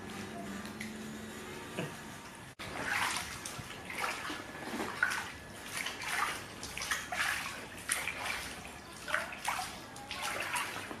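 Running water rinses a milky skin scrub off the body, a steady close splashing and trickling that continues for about eleven seconds with rhythmic surges as hands move through the stream, no talking.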